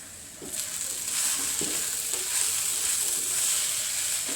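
Utensil scraping and stirring through a sizzling beef cutlet mixture frying in a pan, steady crackle with occasional clinks, close and moderately loud.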